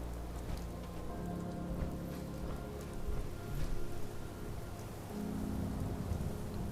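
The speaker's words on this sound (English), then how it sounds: "Got the nice rain pouring down." Rain pours down over Diamond City in the video game Fallout 4 and drums on a power armor helmet visor, a steady faint hiss of falling water with low rumbling beneath, no talk.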